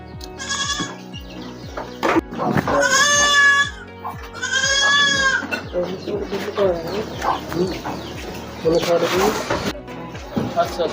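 Several loud goat bleats ring out close by on a goat farm, interspersed with a person talking and other farm animal noises in the background.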